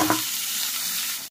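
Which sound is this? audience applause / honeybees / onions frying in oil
onions frying in oil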